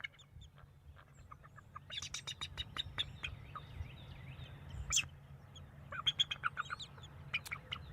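Eaglet chicks in a nest give thin, high cheeps in quick scattered bursts, with louder calls from wild turkeys mixed in nearby.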